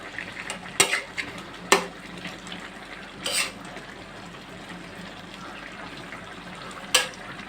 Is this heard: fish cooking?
yes